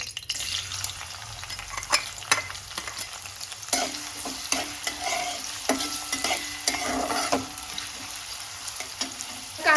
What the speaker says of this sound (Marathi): अर्धा चमचा मोहरी टाकायचे लगेचच त्यामध्ये हा बारीक चिरलेला कांदा टाकायचा